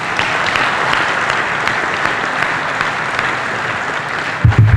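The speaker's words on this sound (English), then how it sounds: "give yourselves a round of applause" A large banquet audience applauds loudly and steadily at a Lancaster County sports banquet, with sustained clapping filling the room before a brief voice cuts in at the end.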